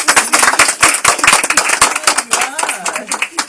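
Dense, close applause from an audience at a tribute event, many hands clapping loudly with irregular bursts across the whole stretch, a voice briefly audible through the clapping.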